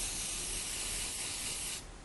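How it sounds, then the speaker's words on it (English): Hairspray is sprayed onto crimped hair in one continuous, close, soft hiss lasting about two seconds, easing slightly at the end. "get some hairspray."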